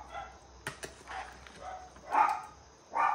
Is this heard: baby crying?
no